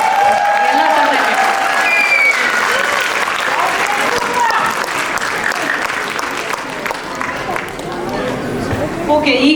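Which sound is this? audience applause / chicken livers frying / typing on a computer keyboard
audience applause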